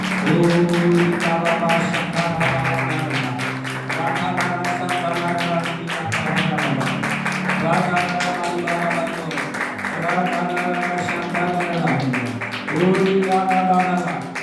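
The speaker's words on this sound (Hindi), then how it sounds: "ताली बजा के हम प्रभु के नाम की तारीफ करें।" A church congregation claps along in steady rhythmic praise, a dense, even patter of hands that runs the whole time beneath sustained singing and music.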